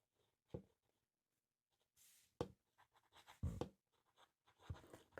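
A Hongdian 1861 Black Forest carbon-fiber fountain pen with a long knife-point nib writes on paper. Faint, close, intermittent scratching comes in short separate strokes over near silence.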